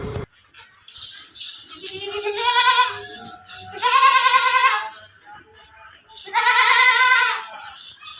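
A pink female goat with kids, a milking breed at a market in Karachi, bleats loudly and close in three long wavering calls separated by short pauses, with no talk over them.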